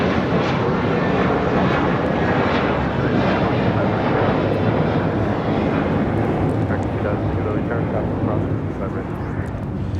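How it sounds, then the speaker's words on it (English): An American Airlines Airbus A321 thunders through its takeoff roll bound for Orlando, a loud, dense, continuous engine roar that holds steady throughout, with a voice speaking beneath it. "This is American Airlines Flight 2135 taking off to Orlando on an A321."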